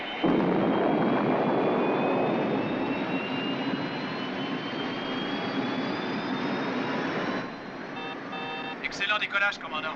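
A spacecraft lifting off in a scene from Space: 1999, episode "Le dernier crépuscule", French dub, a loud broad engine roar with a rising whine that holds steady for several seconds, then drops away into softer rumble and a few electronic beeps.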